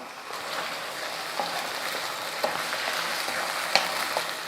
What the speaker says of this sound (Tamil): தக்காளி விழுது நல்லா சுருண்டு நல்லா வதங்கி வரணும்